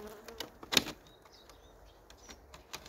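Soft, steady buzzing of honeybees in a horizontal hive, with a sharp knock or rustle near the middle and faint handling noises around it.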